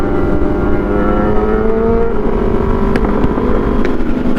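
Two sport motorcycles, a Suzuki GSXR750 and a Kawasaki ZX10R, race close by with loud, sustained engine roar and revving pitch that climbs steadily, a few sharp pops cutting through near the end; no talk.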